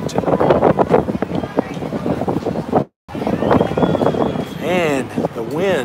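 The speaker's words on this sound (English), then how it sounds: "And the wind has got some gusts blowing to the right field fence." Gusty wind buffets the microphone at an outdoor youth baseball game, a steady blustery rush beneath nearby voices and chatter throughout, with a brief dropout midway.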